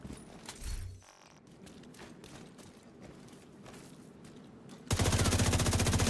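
Gunfire in Ghost Recon Wildlands: quiet rustling and scattered clicks give way to a sudden, loud burst of rapid automatic fire that runs to the end.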